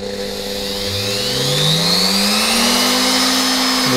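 Virutex FR156N trimmer motor spinning up, a close whine that rises steadily in pitch as the motor accelerates and then holds a loud, high steady tone.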